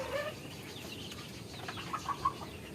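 Hens in a backyard chicken coop clucking softly, a few faint brief calls scattered over low ambient noise.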